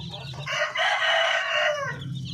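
A Darag native rooster lets out one loud, close crow lasting more than a second, rising and then trailing off, against a quiet farmyard background.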